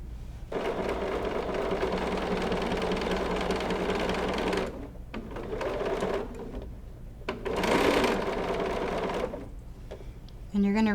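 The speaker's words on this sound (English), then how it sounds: "we'll take it back over to the sewing machine" A sewing machine stitches in steady mechanical runs, pausing briefly a few times before starting up again, close and fairly loud.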